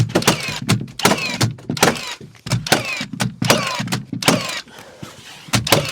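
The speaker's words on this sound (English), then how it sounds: "Right, so we will then nail it to the floor." Timber wall frame of a 3x3 garden room being nailed down to the floor, with a rapid series of loud, sharp impacts in irregular bursts over about six seconds, close by.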